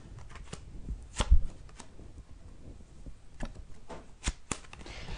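Tarot cards are shuffled for a reading, soft close riffles and slaps coming in irregular bursts with brief pauses between, quiet and without talk.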